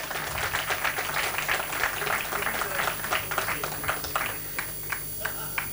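An audience at a Braj festival poetry recital (kavi sammelan) claps steadily, a dense but moderate patter of many hands with a low background murmur. The clapping thins out near the end.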